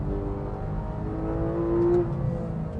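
A car engine revs hard in second gear on a circuit, a steady, rising, high-pitched engine note heard close and fairly loud from inside, with no talking.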